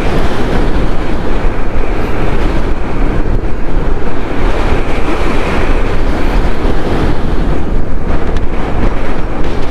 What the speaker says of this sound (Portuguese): Cara, tá ventando demais pra cá.